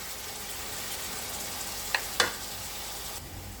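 Onion and chicken fry in a pan with a constant loud hiss and sizzle, broken by two short sharp clinks of a utensil against the pan.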